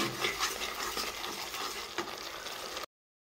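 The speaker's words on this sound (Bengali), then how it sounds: "মশলাটাকে আমি কষিয়ে নেব" A spice paste with salt, turmeric, cumin and coriander powder sizzles in a pan while being stirred and scraped for a fish curry, a steady close frying hiss with occasional utensil scrapes, cutting to brief silence at the end.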